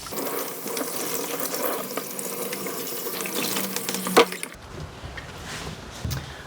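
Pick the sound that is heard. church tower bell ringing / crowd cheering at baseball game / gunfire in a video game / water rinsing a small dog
water rinsing a small dog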